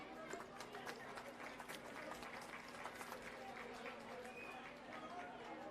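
Audience at a public inauguration event attended by Chief Minister Arvind Kejriwal applauds in welcome, a faint, steady patter of many hands clapping heard at a distance over a murmur of crowd voices.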